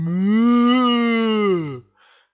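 A voice imitates a cow's long, drawn-out moo as part of a spoken French audiobook story, a single close, steady call lasting nearly two seconds before fading into quiet.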